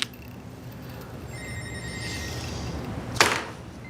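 A phone ringtone chirps faintly in a quiet room, followed by a brief sharp click or knock near the end.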